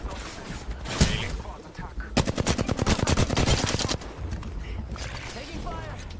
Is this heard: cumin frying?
no